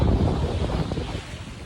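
Ocean waves wash and rumble in a broad, steady roar, mixed with gusty wind buffeting the microphone.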